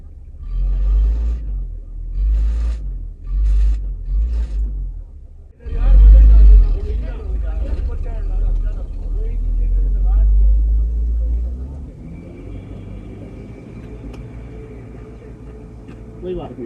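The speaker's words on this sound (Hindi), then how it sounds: "ये देखिए बस पिछला टायर घूम रहा है" A 4x4 on an icy winter mountain road near Naltar strains as its rear tire spins, a loud low engine rumble that surges and then eases, with people talking over it.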